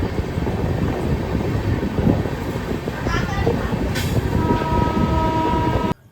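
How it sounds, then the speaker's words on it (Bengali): A passenger train, the Uttar Banga Express, pulls into platform 1 at Bolpur Shantiniketan station with a loud, steady rumble of wheels and carriages throughout, and a faint tonal hum rising near the end. "এখন ট্রেন আমাদের এসে পৌঁছালো বোলপুর শান্তিনিকেতনের 1 নম্বর প্ল্যাটফর্মে"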